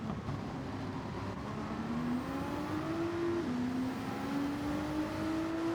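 Porsche GT4 race car in Gran Turismo 7 at Suzuka, a steady engine drone rising in pitch through the gears with a brief shift dip, continuous and fairly faint.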